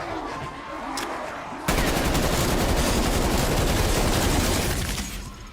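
Dense, continuous gunfire from Call of Duty: Black Ops Cold War zombies mode erupts suddenly partway through and keeps up as a loud, rapid barrage, after quieter game noise at the start.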